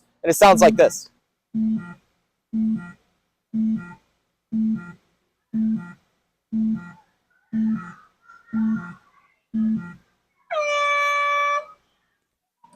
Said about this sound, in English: the only other sound you will hear coming from that clock is once you have 10 seconds left, it will give you a countdown for those final 10 seconds